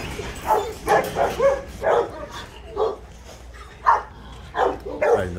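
Rottweilers bark at feeding time, about nine loud, separate barks and yips at an irregular pace, close by and with no talking over them.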